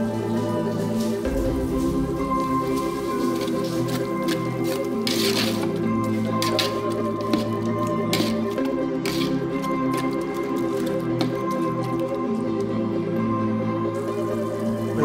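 Chicken pieces being mixed by hand with yogurt for a chicken biryani, giving steady wet squishing and squelching sounds with soft drips, close and continuous throughout without speech.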